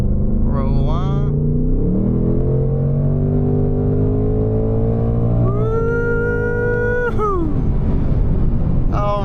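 A 2024 Ford Mustang GT at full throttle, its V8 engine note climbing steadily in pitch, then a quick upshift drops the tone before it pulls hard again, loud and close from inside the car.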